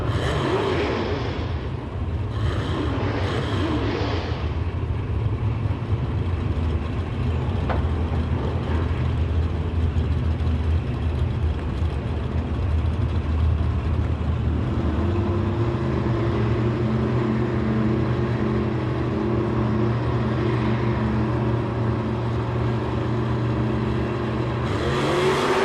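A Chevrolet Camaro drag race car at a door wars drag racing event, its engine a loud, continuous roar that builds and shifts pitch midway, steady and close with no voices.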